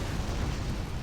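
Panther tank taking fire in the Rise of the Reds strategy game, a dense, continuous rumble of explosions and artillery-like booms that stays loud and unbroken throughout.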